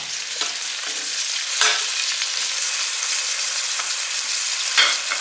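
Chopped onion hits hot oil and ghee in a pot, giving a bright, steady sizzle with occasional stirring scrapes and small bursts, close and continuous with no speech.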